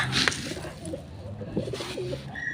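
Pigeons coo in a soft, low, rolling call close by over a faint background hum, and no one speaks.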